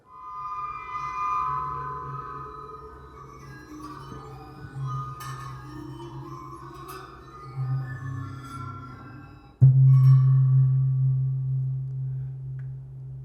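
A metal bowl fitted with spines, wired with a pickup, rings with sustained metallic tones and scraped shimmer, then a sharp struck hit near the end blooms into a loud, humming resonance that slowly fades.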